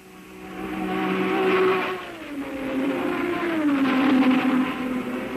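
A Jaguar race car accelerates at the Le Mans 24 Hours, its engine note swelling loudly, dipping in pitch, then climbing again as it pulls away, heard alone and fairly close.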